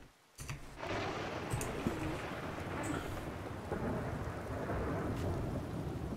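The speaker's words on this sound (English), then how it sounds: "Those are some loud lightning strikes." A loud thunderstorm rages in the Skyrim video game, with steady heavy rain hissing throughout and sharp, close lightning cracks and rumbling thunder rising out of the downpour.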